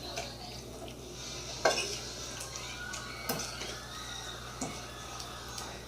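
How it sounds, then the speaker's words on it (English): A spoon stirs homemade pesto sauce in a bowl, producing soft scraping with a few sharp clinks against the dish over a low steady hum; a voice is faintly heard. "So I'm just going to take the spoon. I'm just going to mix it up."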